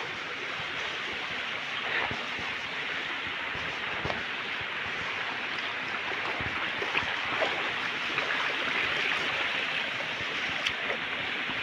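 Creek water flowing steadily outdoors, a continuous broadband rush with no pauses, fairly loud and close, no voices.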